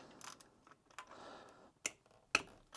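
A ratchet wrench clicks as 13mm bolts come off a throttle body hose on a Honda Civic FK2, heard as a few sharp, sparse ticks and clacks at moderate volume, close by and without voices.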